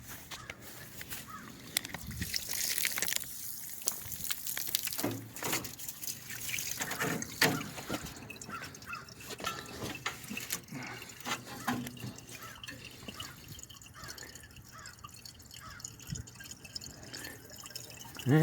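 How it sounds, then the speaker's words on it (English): Coolant water trickling and dripping out of the lower radiator hose of a 1966 Dodge Dart GT barn find, faint irregular splashes and drips against quiet outdoor background, no talking. "we're getting some water out of the low radiator hose"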